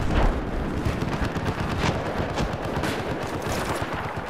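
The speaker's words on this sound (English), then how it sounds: "Tons of mortar fire, okay." Mortar fire in a video game battle booms and thuds in a dense, continuous barrage, with heavy impacts and gunfire crackle merging into one loud, sustained roar.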